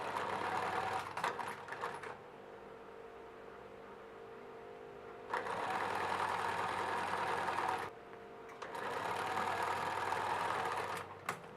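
Sewing machine stitching down the neckline of a center back jacket piece, a steady mechanical whir in three bursts with short pauses between, close and loud with no talking.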